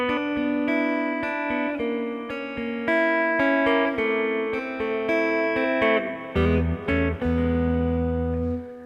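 An electric guitar plays a rhythm guitar part for a song, choppy strummed chords with fretted notes on the 3rd and 2nd strings against an open high E, closing on lower held chords, solo and close.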